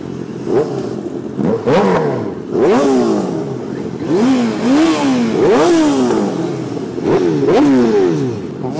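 Several sport motorcycle engines, including an S1000RR, rev loudly in quick succession through differing exhausts, pitch sweeping up and down with sharp throttle blips, close by and continuous.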